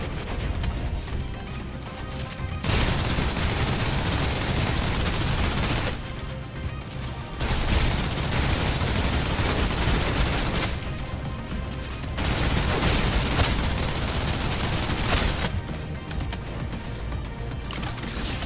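Suppressive gunfire in the video game Snowbreak: long, loud bursts of rapid automatic shots, each lasting several seconds, broken by short pauses and repeated four times.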